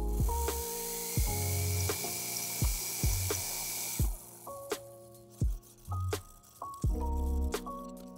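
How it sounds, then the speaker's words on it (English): A milling machine trimming a stag knife handle part for a Damascus blade, heard as short bursts of high whining cutting broken by clicks and knocks, starting and stopping repeatedly at close range. "I'm gonna put this back on the mill and kiss off a few thousandths off this side"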